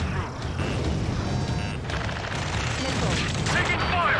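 Dense gunfire in Ace Combat 7 that crackles and rattles continuously and loudly under shouting voices, with no clear pauses between shots.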